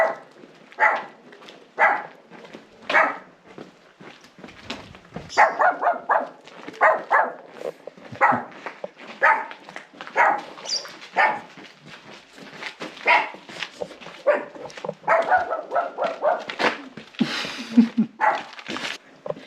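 A dog outdoors in the quiet countryside of the Matese region in southern Italy barks over and over in short, sharp bursts, loud and fairly close, with a few higher yips mixed in.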